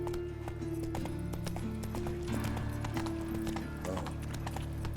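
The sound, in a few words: horse galloping in The Witcher 3 video game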